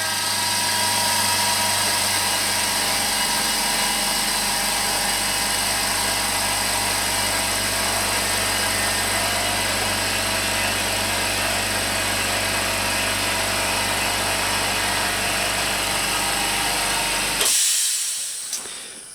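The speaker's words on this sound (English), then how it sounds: "It's the oil-free, silent or low noise, I call it, compressor, 50-liter by Hyundai." A Hyundai 50-liter oil-free low-noise air compressor runs with a steady motor drone and hiss, close and constant for most of the stretch before cutting off abruptly near the end.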